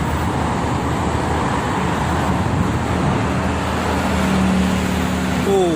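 A Prima Jasa intercity bus moving among weekend traffic on the Jakarta–Cikampek toll road, heard as a constant loud roadway roar with a brief tonal horn-like sound near the end.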